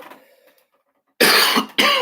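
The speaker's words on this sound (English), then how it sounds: "I know I'm always coughing on y'all" A man coughs hard and close twice in quick succession after a brief near-silence.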